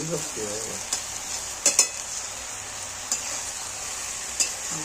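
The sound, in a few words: food being stirred in a cooking pan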